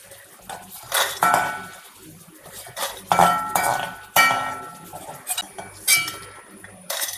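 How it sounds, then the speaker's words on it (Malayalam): Dried ingredients rattling in a metal pan as they are stirred, giving repeated clinking and scraping bursts with brief pauses between them. The sound is close and clear, with no voices. "കലകലാ ശബ്ദം കേട്ടില്ലേ കലകലാ ശബ്ദം എന്ന് വെച്ചാൽ ഇത് ഉണങ്ങി എന്നർത്ഥം"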